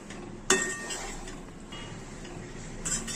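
A spoon clinks and scrapes in a bowl, mixing soaked puffed rice with chana dal and sesame powder for uggani, with a bright clink at the start and another near the end over soft stirring.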